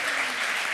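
A studio audience at a live sports comedy show applauds in a short, dense burst of clapping. It sounds loud and even, with no clear pulsing beat.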